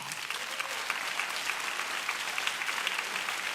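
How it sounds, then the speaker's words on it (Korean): Church congregation clapping to welcome first-time visitors at a service, a continuous, fairly soft patter of many hands heard at some distance. "저희들이 박수로 환영하겠습니다"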